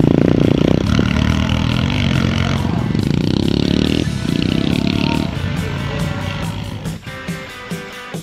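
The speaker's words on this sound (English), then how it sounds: "this beautiful works bike of Norman Barrow's, being ridden of course by his son Tony." A 1970s CCM works dirt bike ridden off-road, its engine roaring loudly and steadily with rising and falling revs, close by and dominating throughout.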